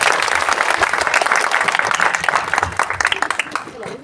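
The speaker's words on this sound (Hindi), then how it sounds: "भाऊ के लिए तालियां हो जाए।" Applause from a gathered audience, brisk dense clapping with individual claps standing out, continuing steadily and tapering slightly near the end.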